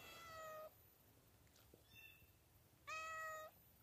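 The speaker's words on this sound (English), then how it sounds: "It's pretty quiet, except for this here cat meowing." A cat meows outdoors on a cold, quiet snowy day near an old horse corral, two clear, fairly close meows separated by a pause, with faint softer sounds between them.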